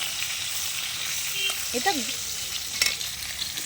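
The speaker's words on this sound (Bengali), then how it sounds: "ভাজা করছি।" Fish sizzling as it fries in pigeon-pea oil for a village-style lunch, a steady bubbling hiss throughout with brief stirring clatters, close by, and a single short spoken word.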